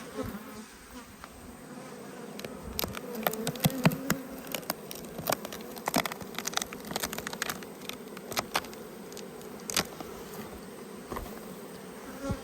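Honey bees hum in a steady, busy drone from an opened backyard hive, with scattered clicks and taps from the lid and frames throughout, close and moderately quiet.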